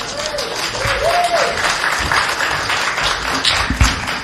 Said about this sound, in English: the applause wasn't for Justice Ginsburg